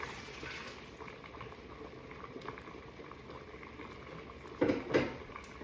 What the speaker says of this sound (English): I've been soaking cashews for about probably like 6 hours now. I'm gonna strain that.